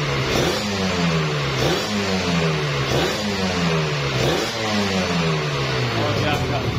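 Kawasaki Ninja RR motorcycle engine revs repeatedly in rhythmic rising bursts close by, with a voice talking over the engine throughout.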